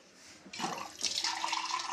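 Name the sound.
mug of water poured into a pot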